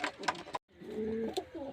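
Pigeons coo at close range in a loft in Beldanga, Murshidabad, with a brief break and then a low, drawn-out throaty coo.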